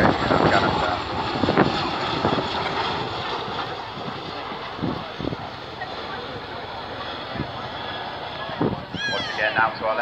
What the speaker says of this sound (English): as JT pulls the aircraft up into another 30 degree wing over